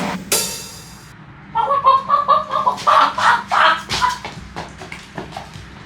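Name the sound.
chicken clucking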